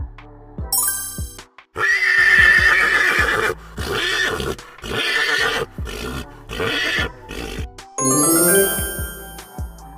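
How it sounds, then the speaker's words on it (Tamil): A horse whinnies loudly several times in a row, each neigh a long quavering call broken by short gaps, with brief chimes at the start and end. "குதிரை,"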